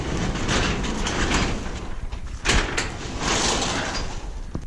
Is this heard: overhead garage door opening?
yes